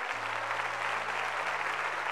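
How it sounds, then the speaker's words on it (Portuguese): Congregation applauding loudly in church during a Portuguese-language sermon, a steady wash of many hands clapping with a low hum beneath it, no voices over it. "aplauda ao Senhor bem forte"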